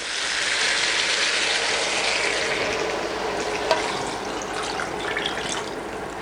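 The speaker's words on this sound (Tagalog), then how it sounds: "Pwede na nating ilagay yung ating tubig." Water poured into a sizzling pot of chicken and pork pochero after the meat has been sautéed, a broad continuous hiss and rush with a small clink partway through, loud and close.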